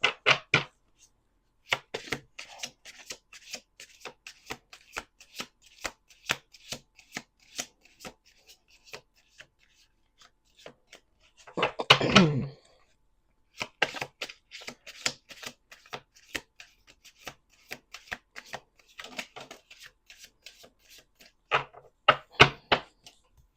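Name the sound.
shuffling a deck of cards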